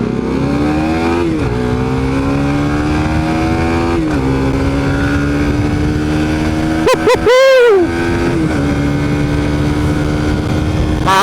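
A Suzuki Satria Pro motorcycle engine idles with a steady, loud drone, then revs sharply twice near the end, the pitch climbing and dropping back.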